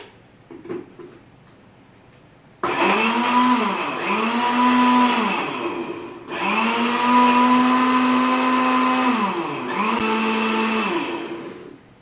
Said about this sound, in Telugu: ఇప్పుడు మూత పెట్టుకుని మిక్సీ పెట్టుకుందాము.